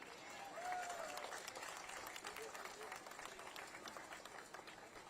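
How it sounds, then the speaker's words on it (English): Crowd at an outdoor rally and prayer vigil in Houston breaking into applause, a soft, distant patter of clapping with a raised voice or cheer near the start, fading gradually. "You can clap for that."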